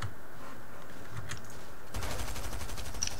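Rapid automatic gunfire in the video game Fortnite, a dense burst of shots starting partway through and running to the end, loud and close.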